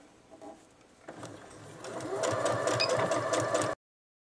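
A sewing machine stitches a seam on a fabric face mask, starting quietly and then building into a steady, rapid mechanical chatter that runs close and loud before cutting off sharply.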